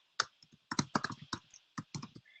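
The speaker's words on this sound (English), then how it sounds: "So while he's typing in" Keys clack on a computer keyboard in uneven bursts of taps with short pauses between them, close and clear, with no voices.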